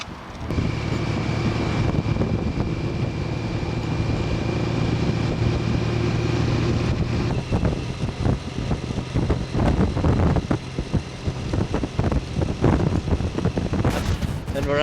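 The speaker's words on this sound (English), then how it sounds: "desert and it's blowing like crazy" Strong desert wind in Arizona buffets the microphone in loud, gusty rumbling bursts, with a steady engine drone underneath that gives way to harsher wind blasts partway through.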